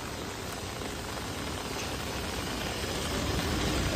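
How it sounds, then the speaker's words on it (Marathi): Heavy monsoon rain pours down in Borivali, Mumbai, a dense, steady roaring hiss of downpour close to the microphone, growing slightly stronger toward the end with no voices. "खूपच जोरात असा पाऊस झाला आहे बोरिवलीमध्ये आणि सगळ्याकडेच पाऊस चालू आहे"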